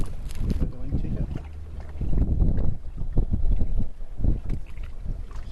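Strong gusty wind buffets the microphone while a small sailboat runs downwind, rough low-pitched bursts swelling and dropping in uneven waves with occasional water splashes.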